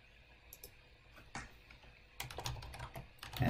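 Keys tapped on a computer keyboard while working in Office 365, scattered soft clicks at first, then a quicker, louder burst of typing close by.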